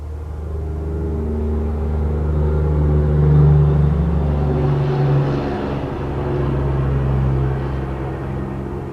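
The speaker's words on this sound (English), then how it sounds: "There's another loud car." A loud car passes outside on a calm, quiet day, a low rumbling drone that swells to a peak midway and then slowly fades away.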